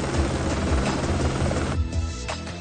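A helicopter's rotor drone churns steadily, with a dense low rumble that thins out and softens toward the end, backed by dramatic music.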